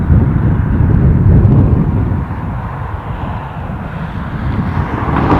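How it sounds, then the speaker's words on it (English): An Aer Lingus A320 airliner inbound from Brussels arrives at Dublin airport, its engines a loud, low broadband roar mixed with wind buffeting on the microphone, steady for the whole stretch. "An Aer Lingus A320 inbound from Brussels"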